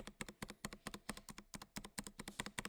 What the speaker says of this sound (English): I think that's just a good backspace no matter what.